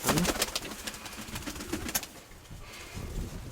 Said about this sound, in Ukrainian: Так, другого голубка зараз ловимо